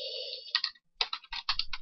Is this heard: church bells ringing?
no